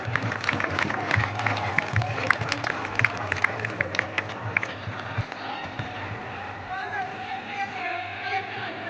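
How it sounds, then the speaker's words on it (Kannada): Audience applause at a felicitation ceremony, scattered clapping from a crowd that builds and then thins out, with a hubbub of voices and some talking over it. "ಒಂದು ಜೀವನಾಡಿ ಭಕ್ತಿಯ ಚಪ್ಪಾಳೆ"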